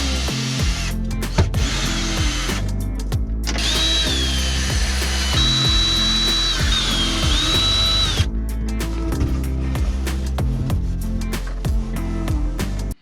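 A power drill backs screws out inside a 2020 Grand Design Reflection 311BHS travel trailer, its motor whining in several close, loud bursts of varying length separated by brief pauses, with ratcheting clicks and no talk.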